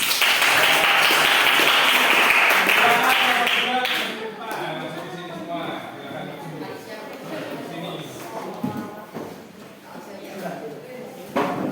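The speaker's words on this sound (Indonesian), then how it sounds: "tepuk tangan untuk kelompok 2 dulu" A classroom of students applauds for a presenting group during a lesson on global warming, with loud broadband clapping over the first four seconds that then fades into chatter and scattered taps as people settle and talk.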